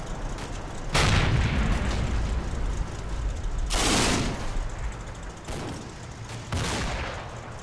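Rocket explosions in the WWII tactics game Combat Mission: Battle for Normandy, four heavy booming blasts spaced a few seconds apart over a constant background of rattling gunfire, loud and close.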